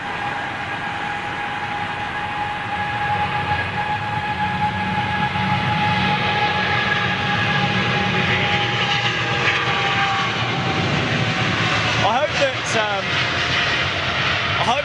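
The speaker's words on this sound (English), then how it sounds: "Noisy 777." Loud, steady Boeing 777 jet engine roar with a high whine on top, rising slightly in intensity, close and continuous throughout.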